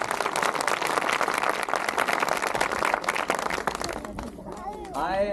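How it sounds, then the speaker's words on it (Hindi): A congregation claps loudly in a dense, continuous burst of applause that fades after about four seconds, followed by a brief voice. "मैं चाहता हूँ यीशु के जलाल के लिए जोर से ताली बजाएं"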